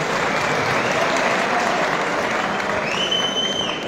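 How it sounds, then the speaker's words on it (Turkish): Sustained applause from a large audience at a youth gathering event in İnegöl, Turkey, steady dense clapping throughout at close range with no talk over it. "Kuvvetli bir alkış istiyorum efendim."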